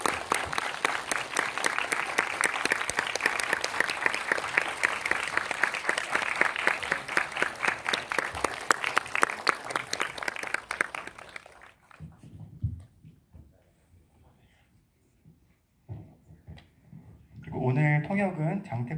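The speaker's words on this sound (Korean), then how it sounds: "박수로 환영해 주시기 바랍니다" An audience at a Busan International Film Festival 2021 world premiere screening applauds loudly and steadily for around eleven seconds to welcome the director and actor. The clapping then dies away to near quiet, and a voice starts speaking at the end.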